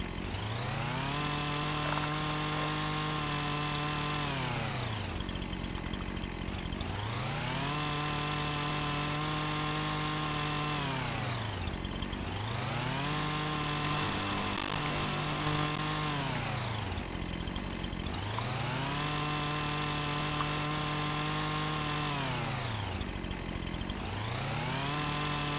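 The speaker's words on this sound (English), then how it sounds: "let's grab the old chainsaw." Chainsaw in Farming Simulator 25 cutting in repeated cycles, revving up to a loud sustained whine and dropping back to idle about every five seconds, steady and close with no talk.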